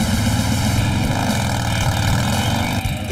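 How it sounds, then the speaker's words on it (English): An old Harley knucklehead or newly built panhead motorcycle engine revs hard on a dyno, a loud, continuous, harmonic-rich roar close by with no voices. "The dyno measures engine power, and Jason's old knucklehead is no match for Mike's newly built pan."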